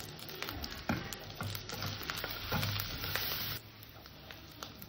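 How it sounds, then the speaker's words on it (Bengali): Spices with a little turmeric frying lightly in a pan for methi katla, a steady close sizzle with occasional stirring clatter, no voices. "হালকা করে কষে নেবো যাতে কাঁচা গন্ধটা না থাকে"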